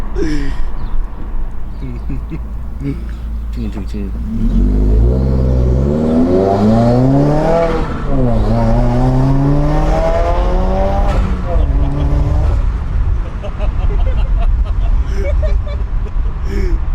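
A 2016 Subaru WRX on a tuned second-gear pull, engine note rising loudly from inside the cabin through a strong climbing sweep, with excited voices and gasps from the occupants over it.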